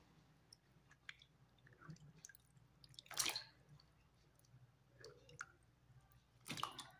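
Potato slices being washed in a bowl of water give sparse, quiet drips and soft splashes, with two louder, brief sloshes as the slices go into the water.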